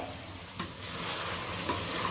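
Pieces of country chicken sizzle and crackle in oil as they are sautéed and stirred in a pot, a steady close frying hiss with a couple of sharper spatula scrapes and no voices.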